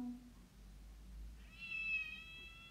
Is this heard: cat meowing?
yes